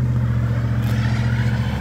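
A Ford truck with a 5.4 engine, outdoors in freezing rain in Tennessee, makes a loud, close, continuous low rumbling drone that holds steady through the short stretch, alone without talk.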